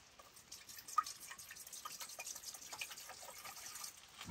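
At a riverside campsite, about a cup and a half of water trickles and splashes softly into a dog's bowl, with a fairly quiet, uneven pour for several seconds.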